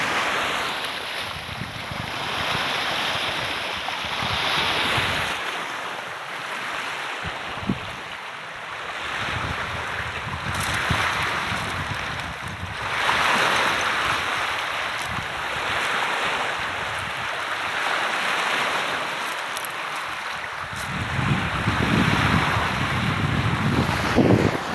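Sea surf washing onto a beach under steady strong wind, the rush of waves rising and falling continuously with heavy wind buffeting across the microphone throughout.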